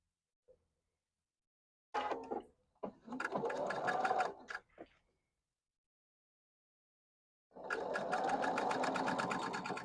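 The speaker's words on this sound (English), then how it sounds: "So start here and sew that way." A sewing machine stitching quilt block pieces in quick rapid bursts: a short run, a pause, then a longer steady run of fast needle clatter, close and fairly quiet.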